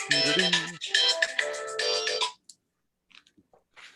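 A phone ringtone plays a bright melodic tune loudly for about two seconds, then stops, followed by a few faint clicks and rustles in near silence.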